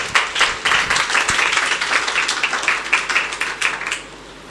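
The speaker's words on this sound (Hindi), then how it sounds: "जोरदार तालियां इस" A church congregation gives loud applause for Pakistan on its independence day, a vigorous burst of many hands clapping in rapid, uneven bursts that carries for about four seconds before quickly fading out.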